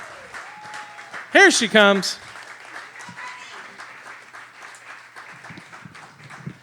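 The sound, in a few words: audience applause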